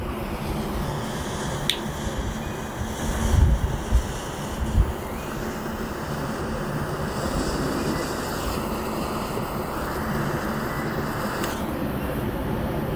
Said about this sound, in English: I decided to use my Cigar Rights of America, my CRA torch today